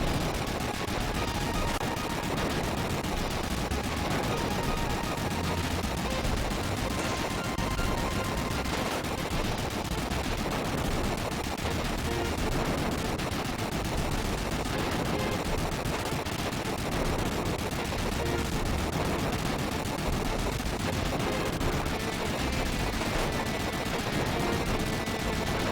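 Dense, relentless gunfire and explosions from the video game Front Mission: Gun Hazard, loud and continuous, with rapid bursts overlapping throughout.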